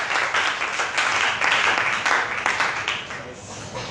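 A church congregation applauding loudly for a few seconds, a dense continuous patter of clapping with voices mixed in.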